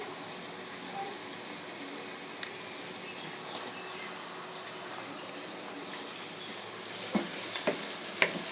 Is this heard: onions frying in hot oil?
yes